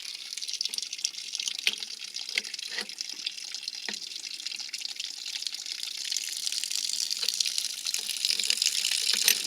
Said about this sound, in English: See the water coming out right there.